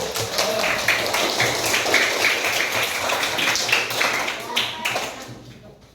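Schoolchildren at an elementary school clap their hands together in a dense, fast patter that lasts several seconds, then fades toward the end with a final tap.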